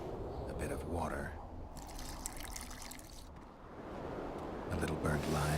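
Water poured and trickling in The Witcher 2 while heated coffee and other ingredients are mixed, a faint steady splashing over a low background hum.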